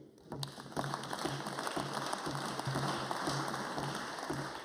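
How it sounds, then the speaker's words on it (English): Applause in the Scottish Parliament during a draft budget speech: steady, moderate clapping from a chamber of people, continuous and slightly distant throughout. "I'd be grateful if you could save the applause till the end"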